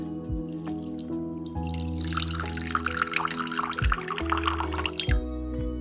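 Water runs from a tap and trickles into a container to soak chia seeds, a steady close splashing pour with drips over a low electrical hum, no voices.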